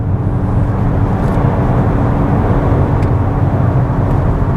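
A car on a straight road accelerates up to 60 mph, giving a steady, loud engine and road roar that holds constant throughout with no break.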